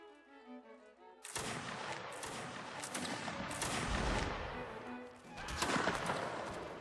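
A musket volley in Mount & Blade Napoleonic Wars, a line battle: a sudden loud crackling discharge breaks a quiet moment, followed by several further rolling bursts of shots across the next seconds.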